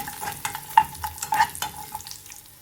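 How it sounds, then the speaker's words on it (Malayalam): Cashew nuts and onions fry in a pan for a Thari Kanji, with soft sizzling under repeated stirring scrapes and light clicks of a spoon against the pan; no one talks. "അണ്ടിപ്പരിപ്പും ഉള്ളിയൊക്കെ മൂത്ത് വന്നിട്ടുണ്ട്"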